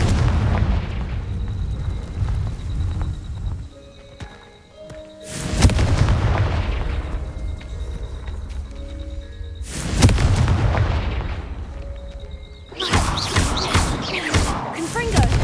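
Confringo blasting-spell explosions in Hogwarts Legacy, three heavy booming bursts spaced several seconds apart with rumbling tails, over game ambience and a voice between blasts.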